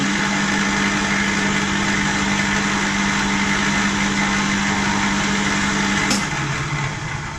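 A drill press bores slowly through plywood with a steady, loud motor hum and whine throughout, shifting slightly in tone near the end as the bit finishes the hole.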